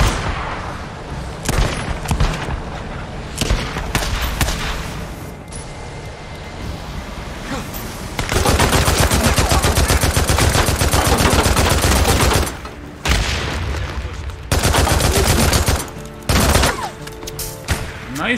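Rifle gunfire from the video game Days Gone, with rapid bursts of shots and sustained volleys over nearly twenty seconds, loud and close, with brief pauses between bursts and some voices in the background.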